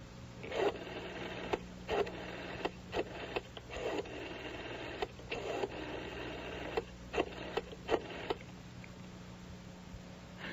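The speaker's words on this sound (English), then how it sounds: "according to her, she was dialing the direct line to Bianca Voss's office" A touch-tone telephone is dialed to a direct office line: a quick series of separate key beeps in an uneven rhythm over a steady low hum, with no talking.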